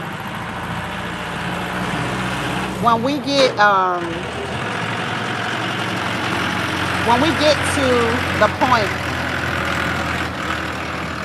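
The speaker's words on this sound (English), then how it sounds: "Eco is on the tractor having to pass by me" A tractor engine drones steadily throughout as the tractor rumbles past, a low continuous hum with a person talking over it.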